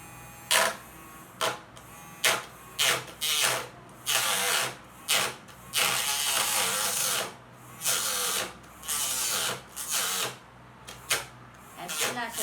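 A homemade cutting machine powered by a DC motor runs in repeated short bursts of high-pitched whirring, starting and stopping in an irregular rhythm, heard close up.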